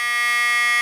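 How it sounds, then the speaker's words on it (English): A Visaton 19K23 piezo beeper, a tiny PC-style speaker, sounds one steady, bright, harmonically rich tone that holds at an even level for under a second. "PC little beeper kind of speaker, piezo speaker"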